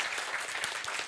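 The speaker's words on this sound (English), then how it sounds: "A big applause." An audience at a steel-sector decarbonization event breaks into applause, a dense, even wash of many hands clapping throughout the brief moment.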